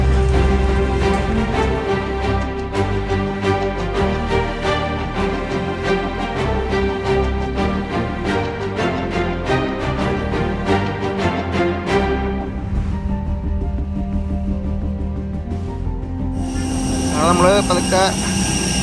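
The engines of a large passenger plane in Peru run loudly and continuously with a droning whine at boarding time, and the pitch shifts toward the end. A person talks over the engine noise.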